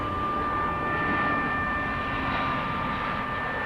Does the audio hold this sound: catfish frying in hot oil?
no